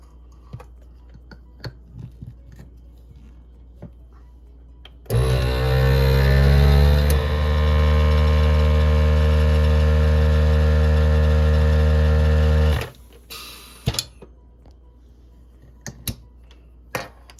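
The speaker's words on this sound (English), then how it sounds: "put the lid on, put the sealer on, and seal it" A vacuum sealer draws air from a jar under its sealing lid, a loud, steady motor hum that rises in pitch at first, holds for about eight seconds, then cuts off abruptly, with scattered clicks and handling taps before and after.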